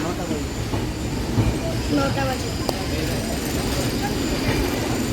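An express train arrives at a station, rumbling and rattling along the tracks with faint wheel squeals while someone speaks briefly over the steady noise.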